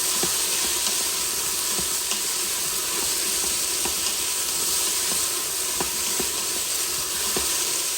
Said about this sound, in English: So the apples are nicely sizzling.